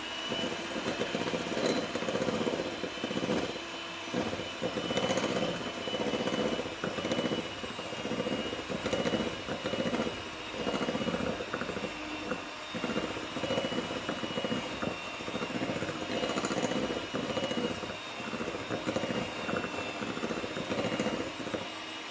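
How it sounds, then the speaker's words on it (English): Electric mixer whisking egg whites with caster sugar for coconut macaroons, a steady whirring motor hum with faint rhythmic beater clatter, continuous and moderately close, no talking. "we just whisk that until it's well combined."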